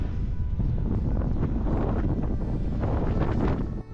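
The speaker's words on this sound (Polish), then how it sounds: "Wiatr się wzmagał." Strong winter wind on a Tatra mountain trail near Giewont, buffeting the microphone in a continuous loud, rumbling roar with gusty rustle and no pauses.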